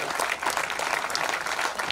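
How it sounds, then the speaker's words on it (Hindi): Audience applause at a formal address, dense clapping from a crowd held steady and fairly loud for about two seconds without a break. "बहुत ही सारगर्भित संबोधन के लिए तालियां कमजोर है आपकी"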